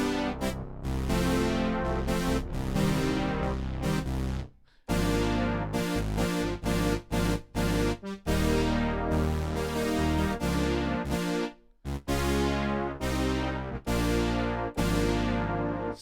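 A Roland Juno-DS synthesizer patch played an octave lower, with rich sustained chords and bass notes in a rhythmic pattern and short gaps between phrases, clear and alone without talking.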